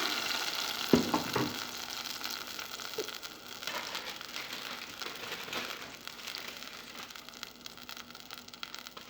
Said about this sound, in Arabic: هنضيف الطماطم بتاعتنا